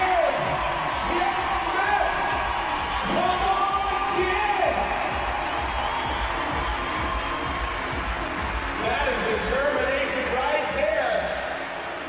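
A large soccer stadium crowd at the CrossFit Games cheers and roars steadily throughout, with whoops rising above the din while an announcer talks over it.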